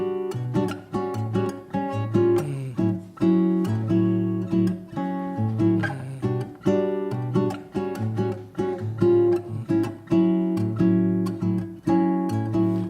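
Nylon-string guitar comping a bossa nova duo accompaniment, steady syncopated chord voicings repeating over several bars with a rising tempo, close and clear, played alone with no talking.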